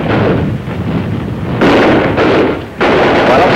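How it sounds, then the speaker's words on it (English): Sustained WWII rifle squad covering fire on a building, dense loud rolling bursts of gunfire with a brief dip before resuming, close and continuous with no voices. "I had the squad lay covering fire on Building 5"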